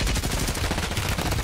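Rapid, dense gunfire in the video game Warzone, loud and continuous bursts of automatic shots filling the whole moment with no talk over it.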